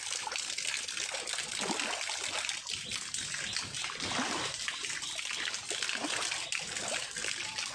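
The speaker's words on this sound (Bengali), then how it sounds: "আর এইদিকে দেখেন ওই যে ছাদের পানি পড়তেছে বৃষ্টির" Rainwater runs off the roof of an old building, about 25 to 26 years old, in a steady close trickle and splatter that holds without a break and stays fairly loud.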